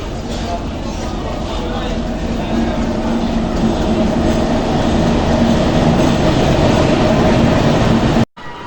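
A passenger train running on rails near Lalmonirhat, a loud steady rumble with rhythmic wheel clatter heard from inside, continuous until a sudden cut near the end.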